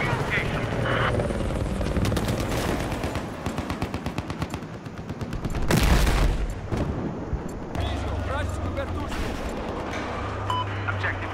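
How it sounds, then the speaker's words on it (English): A helicopter in the Battlefield 4 video game thrums steadily through a busy battle mix, loud and close, with rapid gunfire bursts and explosions layered over the rotor drone. "Bad helicopter, go away!"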